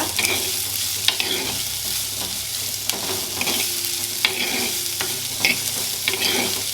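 Onions and green chillies sauté in a pan for a quail egg curry, a steady close sizzle broken by periodic scraping stirs of a spoon against the pan.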